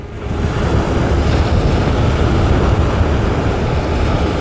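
Strong wind roars steadily across the microphone while a DJI Spark drone flies on a windy November day beside the ship Lee A Tregurtha, a loud continuous rushing without talk.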